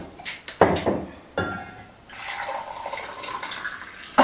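Boiled vinegar poured from close by into a jar packed with cucumbers for pickling, giving a splashing liquid gush with glassy clinks at the start and finish.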